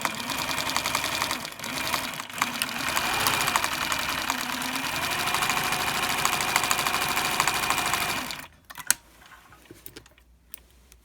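A sewing machine stitches the seam of a fabric pencil case, running in a steady close buzz for about eight seconds before stopping, followed by a few faint clicks and handling noises.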